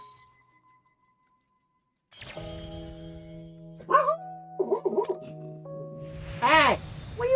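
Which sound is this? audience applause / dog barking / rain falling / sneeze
dog barking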